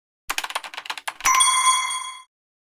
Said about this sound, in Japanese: ピンポン。